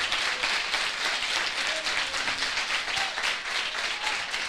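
Church congregation clapping together in a steady, continuous burst of applause, even and fairly loud throughout, with a few faint voices under it.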